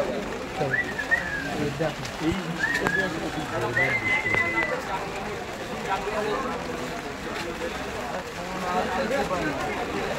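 At Kolkata's Galiff Street pigeon market, pigeons coo faintly beneath a steady wash of crowd chatter and people talking close by.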